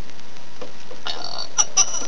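A short burp sounds, followed by a couple of quick sharp vocal blips, quiet overall with a faint background.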